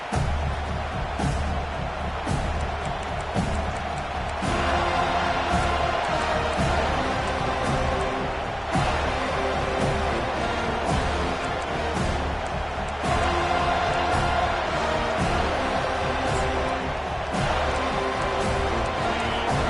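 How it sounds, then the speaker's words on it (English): A packed football stadium crowd at a Florida game roars loudly and continuously for twenty seconds in waves of cheering, with a commentator's voice faintly beneath. "This crowd, full throat, splitting the eardrums"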